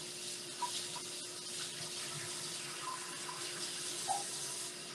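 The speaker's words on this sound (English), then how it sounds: "So let's wash off this cutting board." A cutting board is washed under a running kitchen sink tap. Water flows in a steady hiss with small splashes and knocks as the board is handled, and no one speaks.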